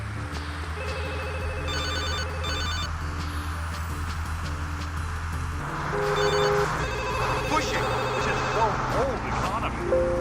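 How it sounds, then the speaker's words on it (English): A telephone rings in repeated electronic bursts during a scripted phone call in GTA Liberty City Stories, heard under someone narrating, with game driving noise following. "such as a phone call after the mission Love on the Rocks"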